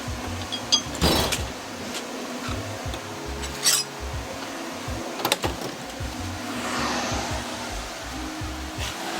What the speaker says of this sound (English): sorry for the noise. It's the fan.